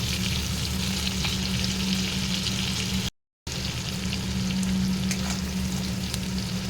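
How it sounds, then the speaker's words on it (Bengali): Constant crackling sizzle of vegetables, including cauliflower and yardlong beans, lightly frying in a hot pan, close and steady, with a brief silent gap midway. "সব সবজিগুলোই আমি অল্প অল্প ভেজে নিচ্ছি"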